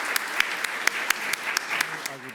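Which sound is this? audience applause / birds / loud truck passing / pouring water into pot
audience applause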